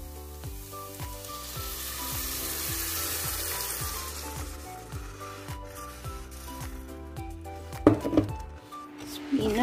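Spinach frying with garlic in a pan, a bright hiss that is strongest at first and settles, accompanied by a steady rhythmic background tune, then a few close scraping stirs near the end.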